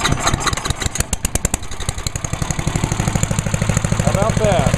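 A Tecumseh small engine on lawn equipment cold-starts at half throttle with choke: a few loud pull-cord chugs, then it catches and settles into a steady, rapid idle thump up close, with a person speaking over it.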